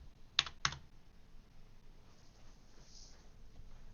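Two quick, sharp keystrokes on a computer keyboard while entering figures into Google Calculator, then near silence with faint room hiss, no voices.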